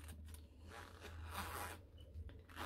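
A close, quiet zipper on a Chresury cash envelope wallet is drawn in a few short scratchy pulls, with brief pauses between strokes and no speech.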